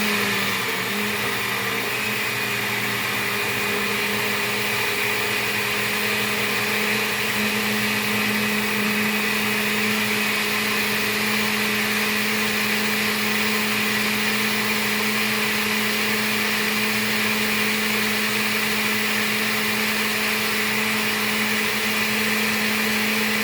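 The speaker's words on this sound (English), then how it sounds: "We're going to put it into our blender. We're going to put it on liquefy." Kitchen blender running steadily on the liquefy setting for healthy cooking, a loud continuous motor whir with a stable hum throughout, no talk over it.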